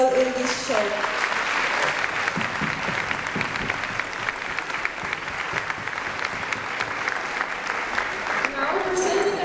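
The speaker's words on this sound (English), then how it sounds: "we want to give a big round of applause to each student who has been involved in this show" A school audience gives sustained applause for the students in a show, dense even clapping for several seconds, with a voice speaking briefly at the start and again as it ends.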